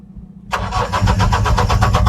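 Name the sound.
Mahindra Bolero pickup BS4 engine cranking with starter motor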